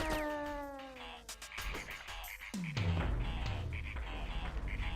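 Slig creatures in Abe's Exoddus make strange wavering, meow-like calls and croaking warbles, several overlapping cries that sound like robot ducks, close and fairly loud throughout.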